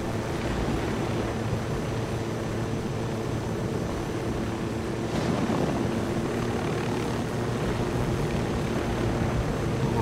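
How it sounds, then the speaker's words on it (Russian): A helicopter in the Ghost Recon Wildlands video game flies overhead, its rotor and engine making a continuous loud drone that holds steady the whole time. "Ну вот, вертушка там летит, да?"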